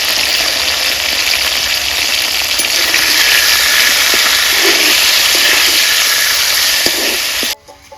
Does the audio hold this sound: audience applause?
no